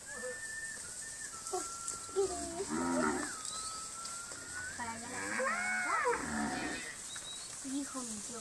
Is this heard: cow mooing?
yes